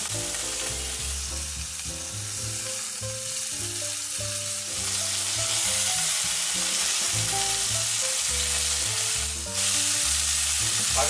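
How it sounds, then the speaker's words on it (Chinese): The remaining beef shank pan-fries in a hot pan with a constant, close sizzle and faint surges, heard beneath steady background music throughout. "我再煎剩下的牛腱。"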